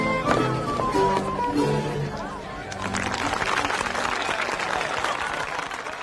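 Applause breaks out on a television history programme about Charles V's victory at Pavia, broad steady clapping that swells after a few seconds and holds to the end, mixed with voices at the start.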